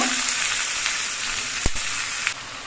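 Mixed vegetables fry in hot oil with nigella seeds in a small kadai, a loud continuous sizzle broken by a sharp knock or two of the stirring spoon against the pan, close up with no talk.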